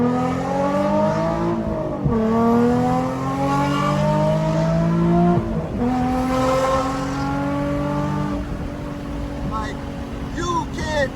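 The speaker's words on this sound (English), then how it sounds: "I feel like all you need is a good sounding exhaust, and I just want to show you that right now." Nissan 350Z Nismo exhaust accelerating through the gears, a loud rising drone that climbs in pitch, drops at each shift around two and five seconds, then keeps pulling steadily.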